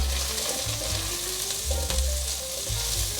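Vegan mushroom pieces stir-frying in hot oil in a wok, a steady dense sizzle with scraping stirs and occasional clanks, close and continuous with no talking.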